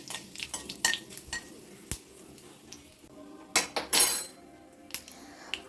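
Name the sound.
fenugreek and mustard seeds frying in oil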